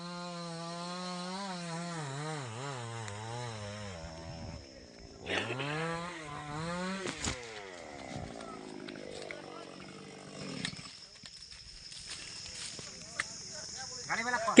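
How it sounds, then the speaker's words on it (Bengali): A chainsaw cutting down trees, its engine whining and revving up and down in pitch, heard at moderate distance while people talk nearby. "সব গাছগুলা কেটে কেটে শেষ করছে"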